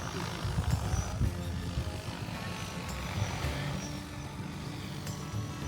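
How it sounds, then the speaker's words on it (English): An ABZ Innovation agricultural spray drone flies over a field, a steady broadband rotor roar with low-frequency throb holding at constant loudness, with faint voices in the background. "first the drone will fly to the entry point of the mission"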